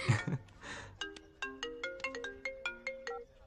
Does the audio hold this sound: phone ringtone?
yes